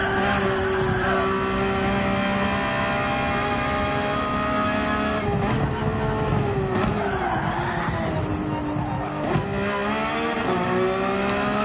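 Race car in Gran Turismo 7 sliding out on the Nürburgring Nordschleife in Sport Mode, its engine droning and revving loudly with shifting pitch while tires squeal and skid, running onto grass.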